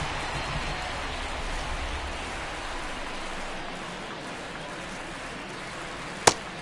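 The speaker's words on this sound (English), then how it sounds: "This rain is not letting up." Steady rain pours over a baseball stadium during an Angels at A's game, a dense even hiss that holds throughout with one sharp knock near the end.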